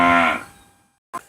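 A single loud cow moo on a farm, close and low, trailing off over a moment, then a brief short knock or thump after a pause.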